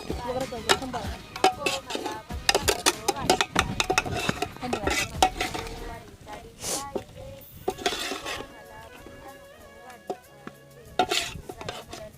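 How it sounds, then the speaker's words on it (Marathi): A spoon stirs masala in a cooking pot at an outdoor chicken cookout in a forest, with busy scraping and clinking strokes throughout, now dense and now sparser, under occasional talk. "आता मसाला टाकून घे आता हलवून घ्या"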